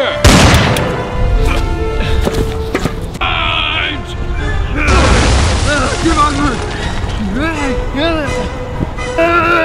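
Musket volleys fire in a Battle of Cowpens scene: sharp, booming bursts repeat roughly every second, close and loud, amid shouted military commands and other voices.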